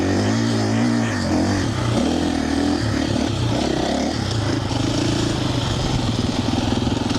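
A 2025 KTM Champion Edition motorcycle engine runs close by, idling and revving in uneven swells with a steady throaty drone throughout.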